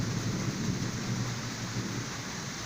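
Heavy rain pours down steadily in a thunderstorm, with a deep rumble of thunder rolling underneath the constant hiss of falling water.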